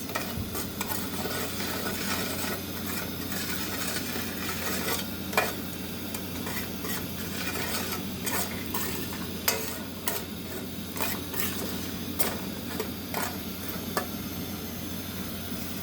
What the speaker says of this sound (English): We want to stir this up to cook for a few minutes before we add our rice.